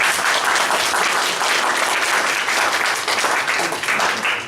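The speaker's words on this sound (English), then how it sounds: "Round of applause." Audience at a Retropalooza convention panel breaks into sustained applause, a dense, steady wash of clapping that fills the room throughout at full loudness before starting to taper at the very end.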